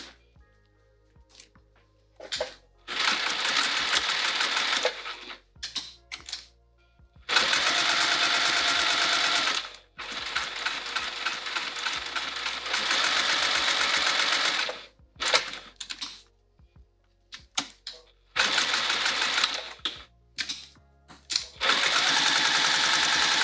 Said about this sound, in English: Now we need to sew this down so it's nice and pretty.